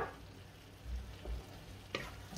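Ratatouille vegetables stirred in a pan, a soft low scraping swirl with gentle sizzling underneath and a couple of light spoon knocks against the pan, close and quiet.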